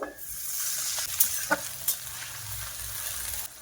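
Onions that have browned to a reddish colour frying in a pan, with a splash of water added, give a steady broadband sizzle and a few brief clinks and stirring knocks, close and fairly quiet, with no voices.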